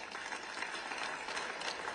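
An audience claps in a brief, dense patter of many hands, steady and even throughout.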